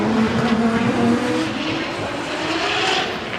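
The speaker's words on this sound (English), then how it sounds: "And now we have both the vehicles transitioning and Kusaba going a little wide" Two drift cars sliding side by side through a corner at a Formula Drift Japan round, a loud engine roar with tire squeal that fades slightly as they pass, heard from trackside.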